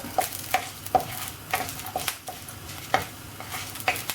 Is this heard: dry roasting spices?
yes